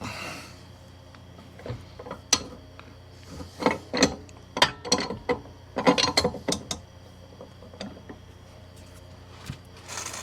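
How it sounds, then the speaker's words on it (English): A breaker bar with a 24 mm socket tightening a shock absorber bolt on a Mercedes GL320 CDI, irregular ratcheting clicks and metallic clunks close by, clustered in the middle with effortful breaths between. "we'll take that big 24 millimeter, throw it on the old breaker bar here, and make sure that this is torque to spec."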